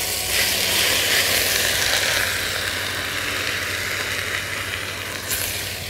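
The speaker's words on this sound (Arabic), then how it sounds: "وهنسيبه على النار لحد ما يتشرب الكريمة خالص، نسيبه يغلي" A steady, soft sizzling hiss of cream gently bubbling in a pan with potatoes continues evenly throughout, with no one speaking.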